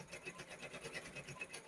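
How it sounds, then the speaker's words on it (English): An embroidery machine stitches felt onto a hat, giving a faint, fast, even needle pulse with soft mechanical whirring, quiet and steady throughout the short stretch. "All right, so it is embroidering."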